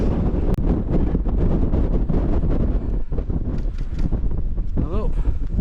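Strong gusting wind on a mountain path on Pillar and Scoat Fell buffets the microphone in a loud continuous roar, with a voice faintly heard under it.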